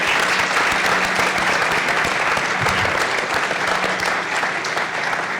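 A symposium audience gives a dense, steady round of applause for a panel of alumni speakers, loud and continuous across the whole stretch with no talking over it.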